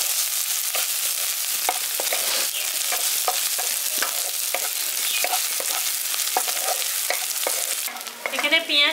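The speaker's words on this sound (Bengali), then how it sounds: "পেঁয়াজটা আর লঙ্কাটাকে হালকা করে ভেজে নিতে হবে" Chopped onion and green chillies fry lightly in a pan for village-style tomato bharta, a steady close sizzle with regular scraping stirs, shifting to a brief bubbling at the end, no talk.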